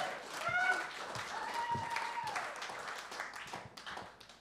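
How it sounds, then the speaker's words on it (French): Applause from a live theatre audience at the Théâtre Ste-Catherine, steady clapping with cheers and whoops, fading out over several seconds. "On l'applaudit!"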